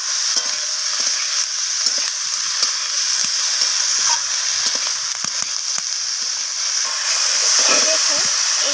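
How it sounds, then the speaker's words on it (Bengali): Steamed cauliflower florets fry and sizzle in a pan while being stirred, a loud steady hiss broken by frequent scraping and clinking from the spatula. "এইভাবে নাড়াচাড়া করে একদম লালচে করে ফুলকপিটাকে ভাজা করে নিতে হবে।"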